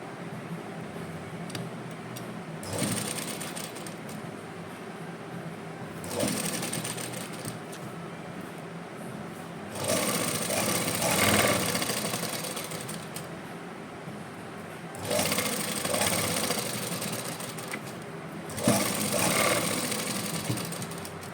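A sewing machine stitches lace onto a round hem in several short bursts of whirring, separated by quieter pauses while the fabric is adjusted.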